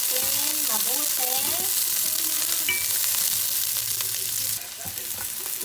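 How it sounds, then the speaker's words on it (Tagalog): Chopped onion sizzles loudly in a little cooking oil as it is stirred, a steady hiss of frying with occasional scrapes and faint background voices, the base for a chicken tinola. "Isunod natin guys ang sibuya o sibuyas. Ito, haluin natin mabuti."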